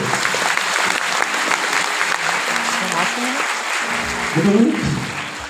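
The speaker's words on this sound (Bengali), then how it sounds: "মিস্টার কার্তিক বিশ্বাসের জন্য অন্তর থেকে একটা হাততালি দেবে, ফাটিয়ে" An audience applauds steadily for Mr. Kartik Biswas at a Tiens training session, a dense even wash of clapping with a few voices and louder bursts near the end.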